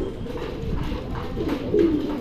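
A pigeon coos in low, soft, repeated throaty calls, fairly close and steady across the short stretch, over a faint background hum.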